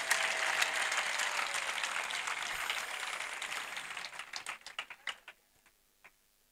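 Audience applause at a church gathering, a dense crowd clapping loudly and steadily for several seconds, then thinning into scattered individual claps that fade to a few final ones.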